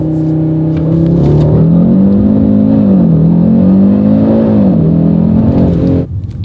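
An Audi RS3 8Y in full quattro mode launches from 0 to 100, its five-cylinder engine droning loud and close with a rising, wavering pitch through the gears, ending abruptly after about six seconds.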